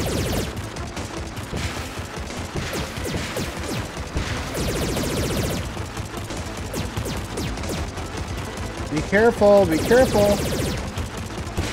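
Enemy rockets fire during a boss-ship fight in the PS4 shooter Vostok Inc., a dense barrage of blasts and impacts layered over game music, with someone talking over the chaos.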